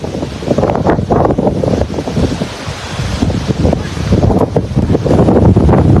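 Strong storm wind in Phuket blows hard and gusty, roaring and buffeting the microphone continuously with surging bursts, loud and close, with no talking.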